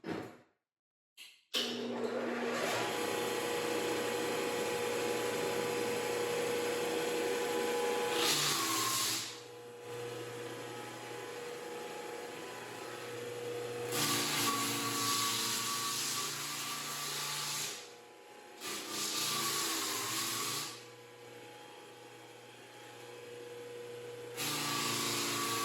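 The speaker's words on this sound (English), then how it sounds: "the sander's plugged in the hallway, and the vacuum is plugged in with an extension cord outside" A drum sander grinds steadily across old wood floors while a vacuum runs on an extension cord outside, a loud continuous droning roar that dips briefly a few times as the machine pauses or shifts.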